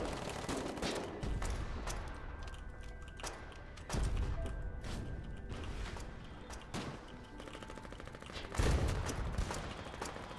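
Gunfire in a video game crackles in loose bursts over a steady ambient bed, with heavier booming thumps near the start, around four seconds and again near the end.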